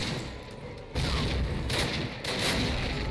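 Two heavy blasts of a grenade explosion burst in Call of Duty, each a sudden loud boom that swells into a sustained rumbling wash, the second following about a second after the first.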